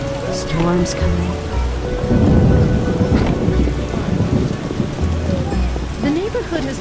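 A thunderstorm in The Witcher video game: steady rain hiss with a rolling rumble of thunder building in the middle, under a low musical drone and faint voices.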